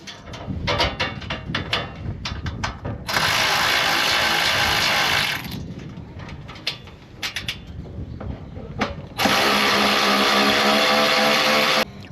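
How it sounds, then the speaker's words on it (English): A power tool drives bolts into a Jeep Wrangler JL tailgate while a Putco MOLLE panel is installed, two sustained loud whirring bursts separated by clicks and shorter ratcheting spurts, close up. "Now with these tightened, we're going to go ahead and tighten these right into the tailgate."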